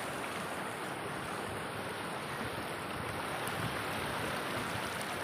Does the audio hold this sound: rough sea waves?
yes